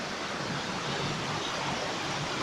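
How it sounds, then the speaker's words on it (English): A waterfall at Psilo Tendro, running with modest seasonal flow, makes a steady, even broadband rush of water that carries unbroken through the whole stretch with no voices. "Hey guys, just got at the waterfalls."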